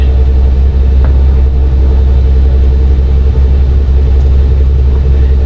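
Twin engines of a Baron 58 in X-Plane 11 drone loudly and steadily as the throttles come up for takeoff, a thick continuous rumble with no voices.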